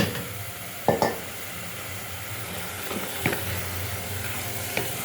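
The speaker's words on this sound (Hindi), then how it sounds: "आइए अब हम ये इसमें टिंडे शामिल करते हैं" Tinda (round gourd) being stirred into masala in a pan, a steady close sizzle with a few sharp spoon scrapes and clanks against the pot, no voices.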